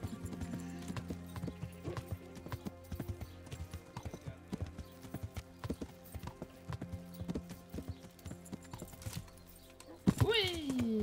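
Horse hooves clip-clopping in a steady rhythm while riding in the video game Kingdom Come: Deliverance, close and continuous, with a neigh near the end and a voice talking.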